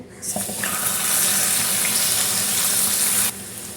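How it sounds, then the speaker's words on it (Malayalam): Water pours into a hot pan while making rice payasam, with a loud, steady hissing sizzle that lasts about three seconds, then cuts off abruptly. "നമുക്കിനി ഇതിലേക്ക് വെള്ളം ഒഴിച്ച് കൊടുക്കാം"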